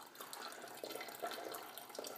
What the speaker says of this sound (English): Pour it into your bottle.